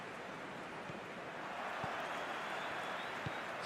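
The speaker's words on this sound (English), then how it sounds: "that hasn't affected the crowd, who are here in good number and indeed in good voice" A stadium crowd in the football game PES 2021 applauds and roars in a steady, broad wash of clapping and cheering, at a distance and fairly faint, with a few soft thumps.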